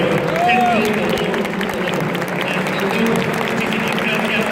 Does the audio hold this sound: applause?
yes